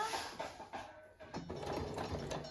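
Domestic sewing machine slowly running a topstitch seam close to the edge of a workwear jacket, a steady mechanical whirring and ticking with brief pauses between bursts, close and moderately loud.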